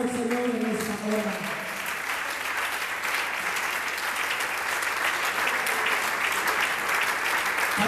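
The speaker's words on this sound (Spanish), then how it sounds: "Cuando le damos un aplauso al Señor en esta hora." Congregation applauding the Lord during a Spanish-language church service, sustained dense clapping from a crowd at fairly loud, even level, with a faint voice or music tone fading out at the start.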